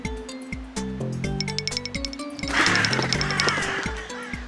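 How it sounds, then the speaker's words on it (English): Crows caw over a crop field in a children's cartoon, with repeated harsh calls set against loud, rhythmic cartoon music and bright chiming clinks, all close and busy. "Those are crows!"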